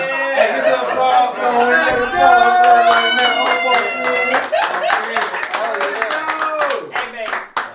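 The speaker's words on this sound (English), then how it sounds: "get the applause" Audience clapping fills the room alongside steady crowd chatter and voices, with sharp individual claps growing denser and more distinct toward the end.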